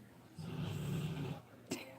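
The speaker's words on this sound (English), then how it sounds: "my dog is snoring like crazy" A dog snoring in slow, heavy rasps, a low rumbling breath lasting about a second, followed by a short snort near the end.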